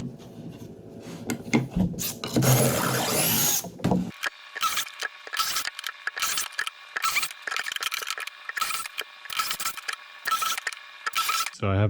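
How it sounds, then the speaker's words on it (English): A drill bores dowel holes into the edge of a wooden board through a dowel jig for an A-frame coffee table, a loud grinding burst followed by many short whirring pulses close by with no talk. "This is where I'll drill down into to make a hole right here on the edge of this board."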